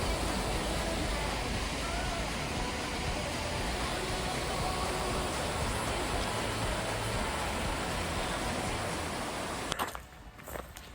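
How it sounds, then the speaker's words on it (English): Steady, loud broadband rush of a waterfall beside a walking path on the Camino between Zubiri and Pamplona, continuous and close for most of the stretch before cutting off abruptly near the end. "Beautiful waterfall."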